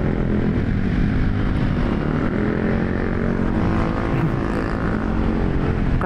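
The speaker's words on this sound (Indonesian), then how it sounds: "Ini motor suaranya kenceng-kenceng banget." Loud, constant engine and exhaust roar of motorcycles moving through city traffic in Bogor, a dense steady drone without pause.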